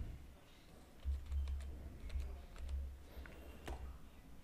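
Soft, rapid keystrokes on a computer keyboard as a file is renamed, a close, quiet run of taps over a low background hum with no talking.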